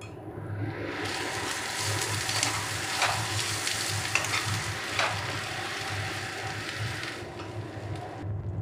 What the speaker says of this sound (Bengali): ফ্লেমটা মিডিয়ামে রেখে আমি এটাকে ভালো করে ভেজে নেব।